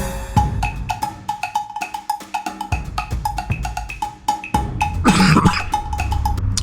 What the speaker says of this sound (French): J'ai une toux, je comprends pas pourquoi.